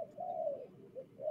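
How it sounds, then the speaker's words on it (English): A pigeon coos repeatedly, a low, rounded call drawn out once and then repeated in shorter phrases, clear against a quiet outdoor background. "They're pigeons."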